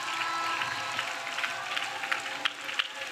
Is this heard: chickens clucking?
no